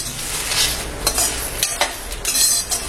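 Chopped onion and garlic masala for Mangalore chicken sukka sizzles in a pan while a spatula stirs and scrapes in irregular bursts, close and fairly loud, with no voices.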